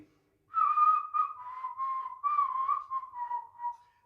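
A tune is whistled with tongue articulation breaking up the notes, a steady, fairly loud melody of short and sustained phrases with brief gaps, heard alone with no talk.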